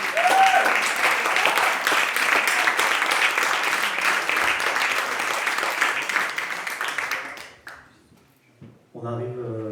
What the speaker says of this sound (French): Vous pouvez l'applaudir parce que rien n'est prévu.